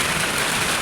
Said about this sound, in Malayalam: ഭയങ്കരമായിട്ടില്ലെങ്കിലും ഉണ്ട് കേട്ടോ മഴ